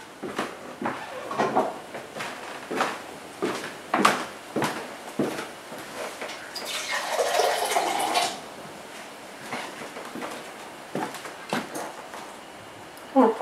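Water pours into a pot of pot roast drippings, a brief splashing rush in the middle, surrounded by scattered knocks and clunks of kitchen utensils and cookware.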